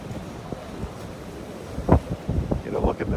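Wind and surf on the beach beside Naples Pier on a Sunday morning, a steady blustery rush with low microphone buffeting and a few louder gusts or wave washes toward the end.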